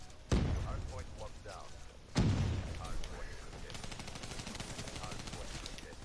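Two sharp, close gunshot blasts ring out in Call of Duty Black Ops 3, followed by rapid automatic gunfire crackling steadily in the background while people talk.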